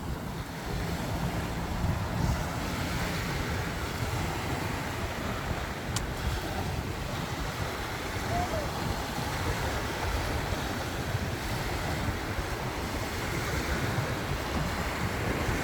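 Wind buffets the microphone and waves wash constantly around a boat at sea, a steady roar of surf and gusts with no clear talk.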